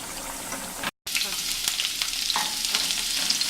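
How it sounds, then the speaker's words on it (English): Steady, crackling sizzle of onion frying in oil in a pan, continuous and close, with one brief dropout partway through. "So I'm frying my onion now."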